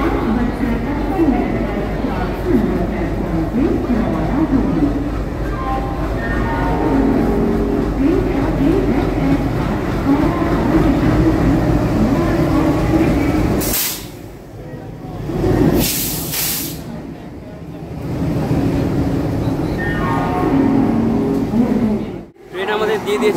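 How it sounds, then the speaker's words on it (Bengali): A train pulls in at platform 8 of a busy Indian railway station, a loud, steady rumble with sharp bursts of hiss near the middle, while people talk nearby. "তোমরা দেখতে পাচ্ছ এই হচ্ছে আমাদের ট্রেন"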